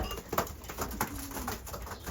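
Young pigeons in a backyard loft with the door open on a sunny day give soft, low coos close by, several overlapping calls against a steady background hum.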